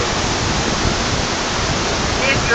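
The Class 6 whirlpool rapids of the Niagara River give off a loud, unbroken roar of rushing water, a dense, even wash with no pauses.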